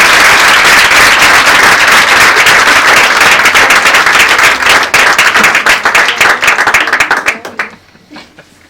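Loud, dense applause from an audience at a women's awareness and protection colloquium, steady clapping for about seven seconds before thinning out and fading near the end.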